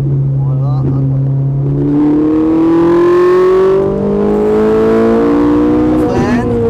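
A Ferrari 458 on the Haute Saintonge race circuit as the throttle is fed back in, its engine note climbing steadily in a smooth, continuous rising whine that holds loud and close throughout.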